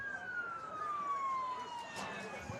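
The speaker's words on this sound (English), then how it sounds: "And there goes the ambulance." A siren from an ambulance passing near an outdoor football game sounds as one long, gradually falling tone, fairly faint and distant under crowd noise.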